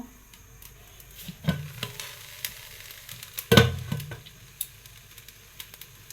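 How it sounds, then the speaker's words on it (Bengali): Onions and dried chillies fry in a pan at home, a soft sizzle under a few sharp clattering stirs and knocks, one loud scrape near the middle. "পেঁয়াজ শুকনো মরিচ ভাজবো।"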